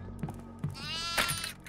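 A goat in the horror video game Devour gives one drawn-out, wavering bleat, clear and moderately loud over a faint low background, with a short sharper cry near the end.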